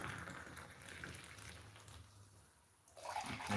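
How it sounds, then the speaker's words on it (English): Tea being poured into a cup, a steady liquid trickle running for about two and a half seconds, then a brief louder splash near the end, faint and close in a quiet room. "Because I'm pouring a cup of tea."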